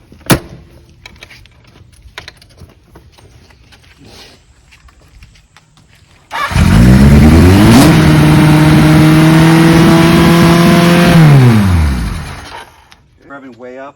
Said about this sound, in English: Revving way up.